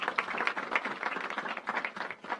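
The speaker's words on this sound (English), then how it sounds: "Let's give them a round of applause." A round of applause from the audience at a senators' press conference on a cannabis reform bill, steady clapping at moderate distance with no talking over it.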